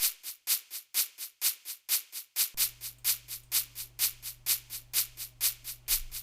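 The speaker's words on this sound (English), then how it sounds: "And then we have this shaker," Shaker percussion sample programmed in FL Studio, a steady, even run of crisp rhythmic shakes, fairly quiet, with a low hum entering partway through.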